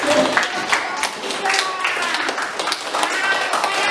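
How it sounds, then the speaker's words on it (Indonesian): A classroom of students claps for a group during a lesson, dense quick hand claps throughout, close and steady with some voices mixed in. "Tepuk tangan."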